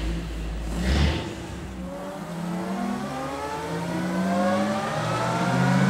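A vintage three-speed car revs hard and then shifts through its gears with double-clutching, the engine note dipping between gears and climbing again in rising pitch sweeps, close and loud.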